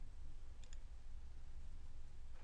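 A computer mouse clicks on a save icon, two quick soft clicks close together over a quiet steady hum, with no talking.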